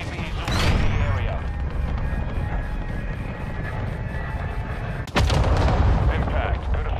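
Cruise missile strike in Call of Duty MW2, a sharp heavy impact crash cutting through steady battlefield rumble and radio chatter, followed by a sustained loud roar of the blast.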